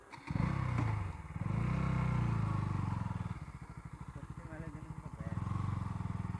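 A motorcycle engine starts and rumbles nearby, revving up and easing down in several swells.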